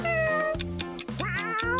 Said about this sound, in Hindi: कितनी प्यारी बिल्ली है।